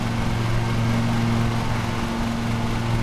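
Lawn mower engine in the video game Lawn Mowing Simulator, a steady droning hum with a strong low tone that holds evenly at a constant level and has no talk over it.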